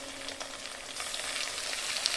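Pieces of payrathali fish fry in hot oil with a steady, close, crackling sizzle that holds evenly throughout, with no talk.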